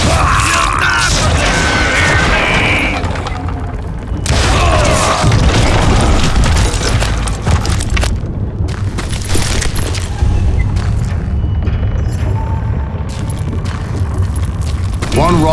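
Booming mine explosion in the western shooter Call of Juarez Gunslinger, loud crashing blasts and rumbling debris layered with gunfire and clattering mechanisms, with a voice speaking over the chaos.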